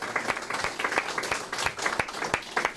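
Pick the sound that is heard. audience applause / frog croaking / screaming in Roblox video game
audience applause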